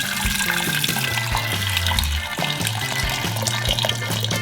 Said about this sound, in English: Let's pour out our stuff into it.